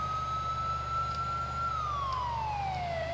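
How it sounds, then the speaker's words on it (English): A police siren in the LCPDFR video game wails steadily, holding a pitch and then sweeping down, loud and continuous over a low engine rumble, with no talk. "oh, I hear sirens, maybe I should put mine on."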